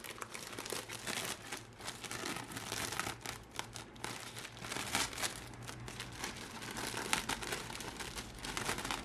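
Handmade translucent paper peels and rips away from cellophane, a dense, faint crinkling and tearing texture that runs continuously at close range.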